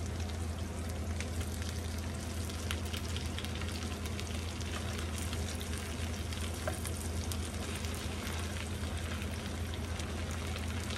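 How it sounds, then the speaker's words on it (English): Potato cakes frying in a pan give a steady, dense sizzle and crackle that stays close and even throughout, with no voices over it. "we're gonna start flipping over our potato cakes"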